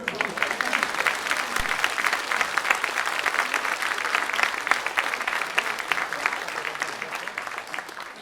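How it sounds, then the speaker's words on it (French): Audience at a fan-convention actor panel in Toulouse bursts into sustained, dense applause, a loud, even wash of many hands clapping that holds steady throughout and tapers slightly at the end. "il mérite un tonnerre d'applaudissements"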